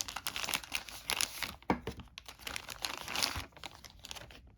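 Crinkly plastic baggie holding playing cards for the Gargoyles: Awakening board game, handled up close in repeated irregular bursts of crackling and rustling with brief pauses between.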